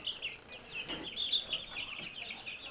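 Three-week-old chicks peep and cluck continuously in a thin, high chatter, faint and close, with no other sounds around them.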